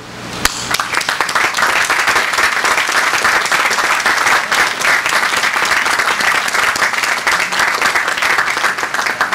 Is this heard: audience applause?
yes